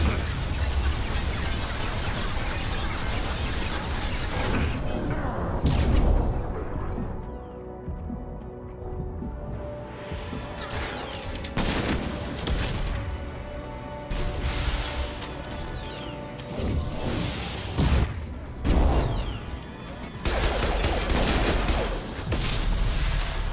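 Heavy weapon fire and explosions in Mass Effect 2, loud booming blasts and crashing impacts repeating through a dense, noisy combat mix, with a brief quieter lull midway.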